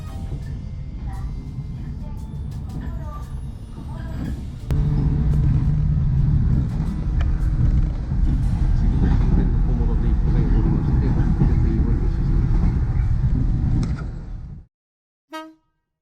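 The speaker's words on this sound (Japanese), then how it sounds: "雨が降る夜の旅ということもあり、車窓からの風景は今一つではありますが、小諸駅まで順調に進んでいきます。" A Shinano Railway train runs on a rainy night between Karuizawa and Komoro, heard from inside as a deep, continuous rumble and rushing noise that grows louder partway through and then cuts off abruptly near the end.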